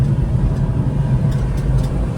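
A Honda Acty kei truck engine pulls hard under full throttle, a steady loud low drone with a rough mechanical hum and no break in the sound.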